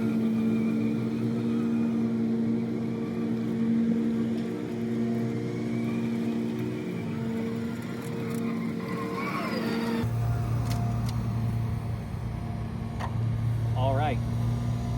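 A Mean Green Vanquish autonomous mower running as it mows, a steady droning motor hum throughout with a shift in pitch partway, someone talking over it.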